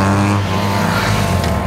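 Cars and motorcycles run along a busy mountain pass, their engines blending into a steady, loud drone that stays continuous for a brief moment with no voices.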